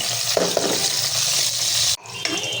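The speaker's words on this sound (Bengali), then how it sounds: "এই যে রসুন কুচি দিয়ে দিলাম" Chopped garlic sizzles loudly in hot oil in a pan beside already-fried meat, a steady close crackle with a brief sharp stir noise near the end.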